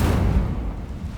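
Incendio fire spell cast in Hogwarts Legacy on Xbox, a loud rushing whoosh of flame with a deep rumble that fades slowly over a second, with no talking.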